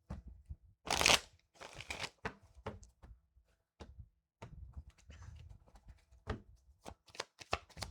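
Tarot cards being shuffled by hand, a burst of riffling followed by scattered soft slaps and rustles, close and quiet with pauses between.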